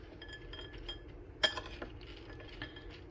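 Spoon clinks against a bowl while horse gram sprout salad with jalapenos is tossed, a few light, close taps and scrapes at low level.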